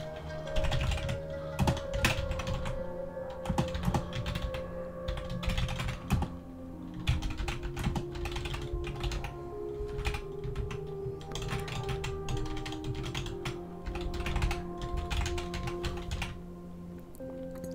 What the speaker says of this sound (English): I just hit my keyboard a bunch of times